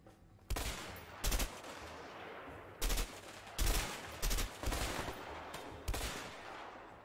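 In the game A Way Out, short bursts of rapid gunfire crack out at irregular intervals, about seven volleys over a quiet background, sharp and fairly close.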